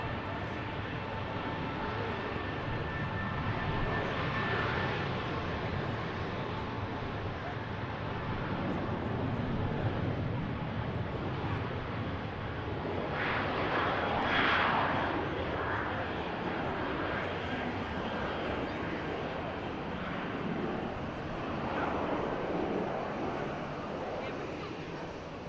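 An aircraft departing Manchester Airport gives a sustained roar with rushing, wind-like texture that swells near the middle and slowly eases, heard from a distance outdoors.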